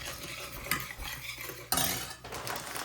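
Chaat masala stirred into a fasting bhel with a spoon, giving continuous close scraping and rustling with a couple of louder clatters against the bowl, no voices.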